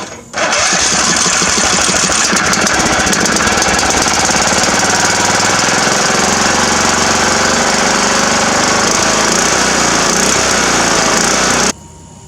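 A homemade boat motor built from a John Deere mower engine runs loud and steady for about eleven seconds, a continuous close-up rattling roar with no talk over it.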